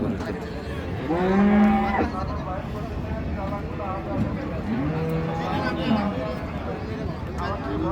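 Friesian cattle and heifers at the Raniganj livestock market, with two long, loud moos in succession over a busy murmur of crowd noise.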